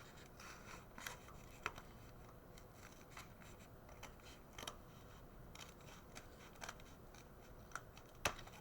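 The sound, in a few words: cutting out a triangle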